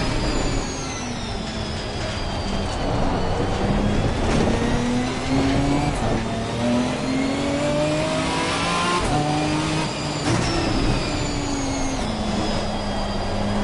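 Ginetta GT4 race car engine in the ACC racing game, revving loudly and steadily through the gears, pitch climbing and dropping with each shift, running continuously up close with no talk.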